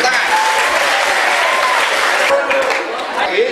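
Dense, steady applause from an audience at an HIV/AIDS and drug awareness session in Lhokseumawe, loud and continuous throughout, with a few voices and calls rising over the clapping.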